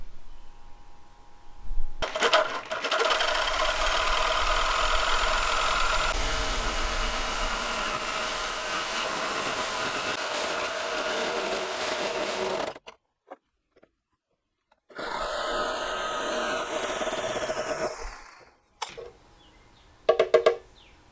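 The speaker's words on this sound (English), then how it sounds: "I'm getting ready to start removing the front mount on the intruder tank. And to do that, I'm using the most precision instrument of destruction that I have, the Sawzall" A Sawzall reciprocating saw cutting the front mount off a Suzuki Intruder motorcycle fuel tank, a loud continuous buzzing roar with a pause midway, then more cutting and a few short bursts at the end.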